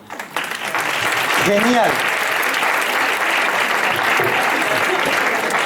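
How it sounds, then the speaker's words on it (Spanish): Audience applause fills a lecture hall on school and brain-based learning, steady and loud for about five seconds, with a short spoken word near the start and faint voices beneath. "Un aplauso."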